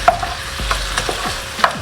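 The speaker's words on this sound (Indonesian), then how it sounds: "Ya tinggal aduk seperti ini" Stirring food in a pan with sweet soy sauce, 600 grams of food: a utensil scrapes and knocks against the pan in several irregular strokes over a low, steady sizzle, close up with no voices.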